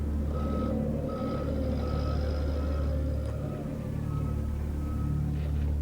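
A forklift reverses in a workplace safety film, its steady electronic beeps repeating evenly over a loud engine drone and rumble, with no talking.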